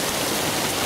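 Steady heavy rain pours over a garden with strawberry plants, a dense continuous hiss with water dripping from an overhang, close and loud, with no voices.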